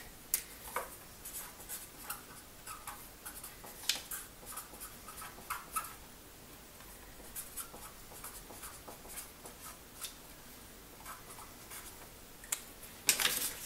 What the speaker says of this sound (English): Let's get a clean piece of paper with a note.